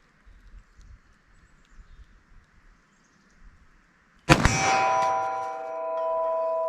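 Hard-cast 10 mm round fired at a steel target after quiet shuffling, giving one sudden loud crack and a sharp metallic clang that rings on, bright and sustained, for a couple of seconds.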